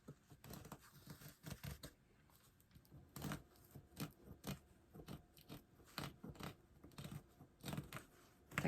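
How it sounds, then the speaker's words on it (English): Fabric scissors snip through burlap in quiet, crisp crunching cuts, irregular and close, with occasional rustling of the coarse material between strokes. "I'm going to use my fabric scissors."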